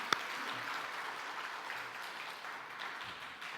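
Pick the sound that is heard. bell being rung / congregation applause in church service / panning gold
congregation applause in church service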